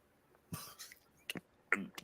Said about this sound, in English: They're coughing.